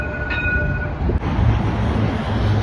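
A Dubai tram rolls along its track with a loud, continuous rumble and rushing roar. A short tonal whine fades early on, and a brief knock comes midway.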